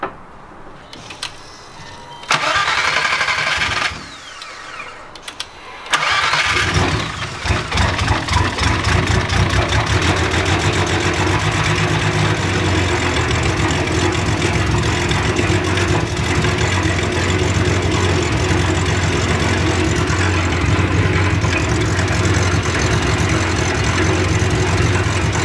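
A turbocharged VR6 car engine, just repaired, cranks a few times, catches and fires up, then settles into a steady, rumbling idle that continues loudly.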